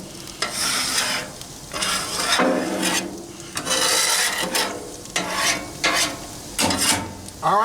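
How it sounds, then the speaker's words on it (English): A metal scraper rasps across a Blackstone griddle, pushing off grease in a series of rough, close strokes with short pauses between them. "let me try to clean up a little bit of this grease"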